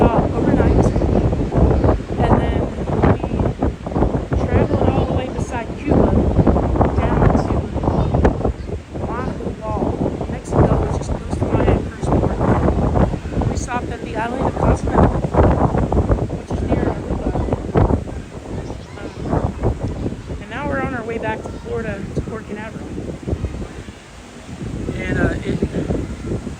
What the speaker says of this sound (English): Yes, it's very windy up here.